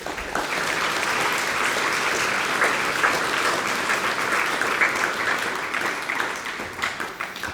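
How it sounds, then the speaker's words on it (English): Sustained audience applause at a university senior breakfast honoring outstanding seniors, a dense, steady wash of many hands clapping throughout without pause. "let's give our outstanding seniors another round of applause."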